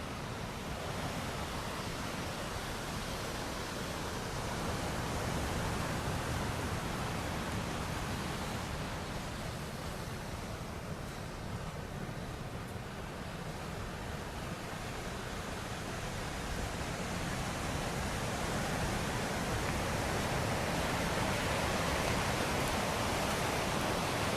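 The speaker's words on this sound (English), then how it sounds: "We just walk our way down the beach a little bit, enjoy some of the surf as I'm walking" Steady ocean surf rushing onto the beach at Bathsheba's Soup Bowl on Barbados' east coast, a continuous broad wash of breaking waves without pause, fairly loud and enveloping, no voices.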